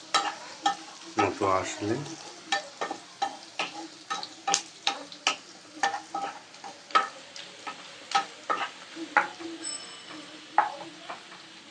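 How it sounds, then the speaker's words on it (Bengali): Onions frying and browning in a pan, stirred with rhythmic scraping strokes over a soft sizzle, close and clear; someone speaks briefly. "পেঁয়াজটা আমার একটু লাল হয়ে আসছে, ভাজা ভাজা হওয়ার"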